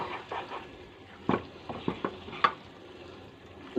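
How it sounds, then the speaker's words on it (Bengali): Egg tarka being stir-fried with boiled lentils in a pan for a dhaba-style dish, with a soft low sizzle under scattered scraping strokes of a spatula, several sharper knocks standing out, no talking. "সেদ্ধ ডালটার সাথে আমি আরেকটু কষিয়ে নেবো।"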